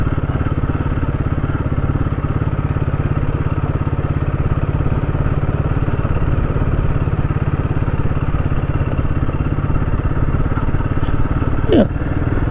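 A Royal Enfield Guerrilla 450 motorcycle chugs along in second gear past almond trees, a steady, close engine thrum with a pulsing rhythm that holds evenly throughout.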